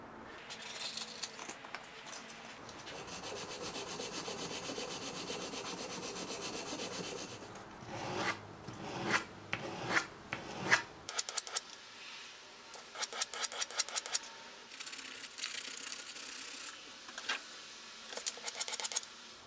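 A file rasping and rubbing against a guitar nut as it is shaped, steady scraping strokes at first, then quicker irregular strokes with small knocks, close and fairly quiet.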